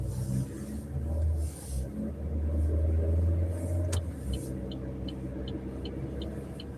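A car comes along a road and goes past a vehicle out on a delivery drive, a low rumbling swell that builds, peaks and eases off at moderate distance, with faint ticking near the end.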